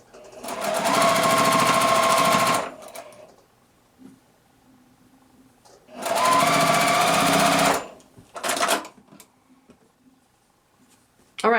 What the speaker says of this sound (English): I'm just going to be sewing these together